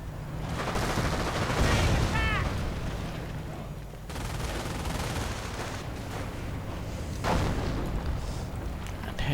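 Heavy .30 caliber machine gun fire in a real-time strategy war game, with rapid bursts and booming impacts layered into a dense, continuous battle din.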